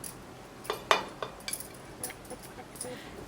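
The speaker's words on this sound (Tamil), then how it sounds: "அதில் உருளைக்கிழங்கு இந்த மாதிரி சேர்த்துட்டு நல்லா இந்த மாதிரி மசிச்சு விட்டுக்கோங்க." A utensil clinks and scrapes against a bowl while mashing potatoes, a few sharp, scattered knocks, close by, with no voices.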